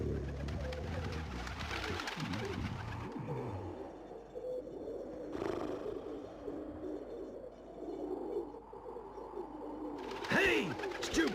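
Pigeon coos repeat from the PlayStation game Legend of Mulan, low murmuring calls layered over a steady ambient bed, with a couple of brighter swells and a louder flurry near the end.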